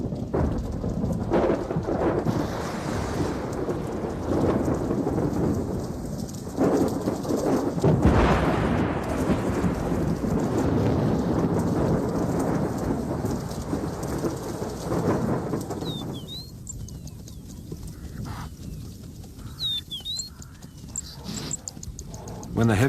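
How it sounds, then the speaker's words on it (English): A heavy thunderstorm breaks over the African savanna, with loud rolling thunder and steady downpour, the rain easing toward the end while a narrator's voice runs over it and a few bird calls surface. "When the heavy thunderstorms rake the savanna"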